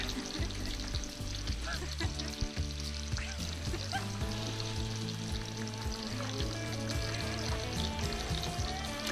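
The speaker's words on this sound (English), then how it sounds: "will also get some oil down and get our tater tots on" Tater tots frying in oil on a Halo Elite griddle, a steady close sizzle and crackle with a faint tonal hum beneath, continuous and without talk.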